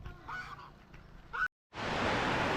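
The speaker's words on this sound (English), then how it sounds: "Bit of a goose blockade on the road." Geese honking on a road in a short burst of calls, a brief cutout, then a loud steady broadband rush of rain or wind noise filling the rest.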